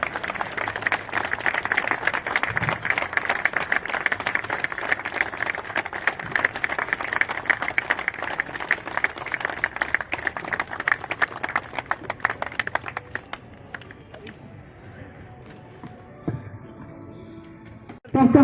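Sustained applause in a hall for the newly elected national president of the All India Motor Transport Congress, many hands clapping steadily for about thirteen seconds before fading into quieter room noise.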